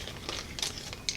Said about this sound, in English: I'm going to try to get this out of the plastic bag if I can get it open.